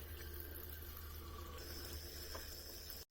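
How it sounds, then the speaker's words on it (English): Steady broadband rush of water running from a tap inside a campervan, continuous and fairly loud throughout, cutting off abruptly near the end. "we just run the tap and the pressure will drop away"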